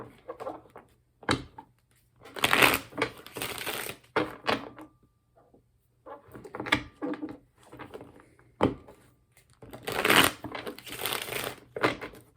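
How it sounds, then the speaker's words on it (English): Bursts of papery riffling and soft slaps of tarot cards being shuffled come in uneven clusters, with brief pauses between, close and moderately loud. "as I'm shuffling"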